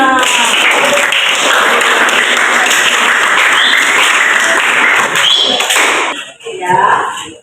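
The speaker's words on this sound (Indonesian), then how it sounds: "Tepuk tangan untuk kita semua." Loud, sustained clapping from an audience at a teachers' training dissemination session, dense and continuous for about six seconds before breaking off into a few scattered claps and brief voices at the end.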